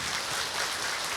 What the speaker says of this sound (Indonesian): Tepuk tangan dong buat Pandeglang